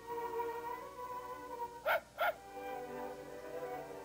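Two quick, sharp dog barks close together, sounding over the soft, steady music of a children's letter-sound song.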